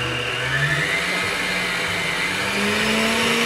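An electric mixer runs at high speed, beating vanilla sponge cake batter with sugar toward the ribbon stage. It makes a steady, loud motor whir with a rising pitch that holds for the whole stretch, and no voices are heard.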